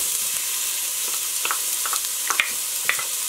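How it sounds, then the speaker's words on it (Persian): Finely chopped garlic and ginger sizzle in a hot pan for pumpkin soup, a steady quiet frying hiss broken by a few soft pops and stirring scrapes, with no voices. "اینها رو اضافه میکنم و تفتشون میدم"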